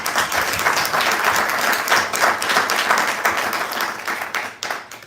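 Audience applause for a filmmaker guest at a documentary film event, dense sustained clapping from a crowd, loud and steady throughout before tapering slightly at the end.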